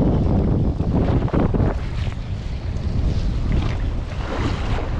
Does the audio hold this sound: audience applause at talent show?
no